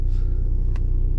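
Yamaha Raptor 700 quad pulls away over fresh snow, a loud, steady low engine rumble close by with a brief sharp click partway through.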